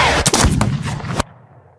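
Gunshots from the duel scene of a musical cast recording: a rapid cluster of sharp, loud bangs with echoing booms, ending abruptly in near silence.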